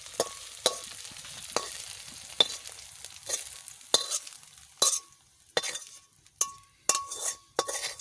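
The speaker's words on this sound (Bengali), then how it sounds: "ভেন্ডি ভাজা হয়ে গেছে" Okra (bhindi) frying in a pan over a large wood fire, with steady sizzle broken by repeated sharp scrapes and clinks of a utensil stirring, growing more frequent toward the end; no talk.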